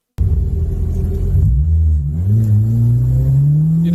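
Car engine idling low as it rolls to a stop, then launching with the engine note climbing steadily in pitch, loud and close with a deep rumble and no voices.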